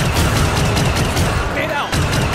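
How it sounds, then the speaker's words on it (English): Loud video game battle noise with dense rapid gunfire and a heavy blast from a deployed grenade, a brief dip near the end before the shooting resumes. "Grenade deployed."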